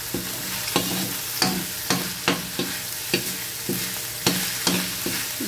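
Shrimp paste (alamang) sautéing in a pan, a steady close sizzle broken by a regular series of sharp scraping clicks as a utensil stirs it, roughly one stroke every half second.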